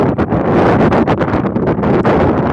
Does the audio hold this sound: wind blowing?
yes